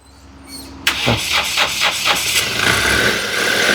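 A 2013 Mahindra Quanto engine cranks and catches with a sharp start, then settles into a rough, pulsing idle close by, a faint voice briefly heard beneath it.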